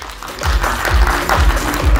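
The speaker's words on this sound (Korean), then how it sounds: "강하늘 배우와 그리고 조장호 감독님을 박수로 모시겠습니다." Steady, loud audience applause fills a film press conference as the actor and director are welcomed onto the stage, sustained clapping with no voices over it.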